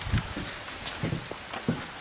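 Rain falls outside a small motorcycle shop, a soft steady patter with occasional louder drips against a surface, no voices.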